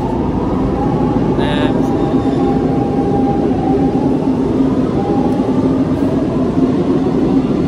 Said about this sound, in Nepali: भर्खरै गयो अब मेट्रो